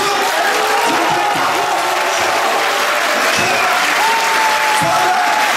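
Loud, steady applause from a crowd of delegates and officials at a contentious political party congress, sustained for several seconds with scattered cheering and voices mixed in.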